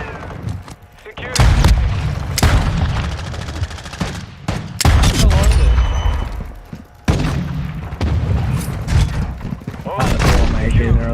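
Heavy mortar strikes and dense gunfire in a Modern Warfare II match, loud bursts of booming impacts and rapid shots in several clusters, with a player talking over much of it.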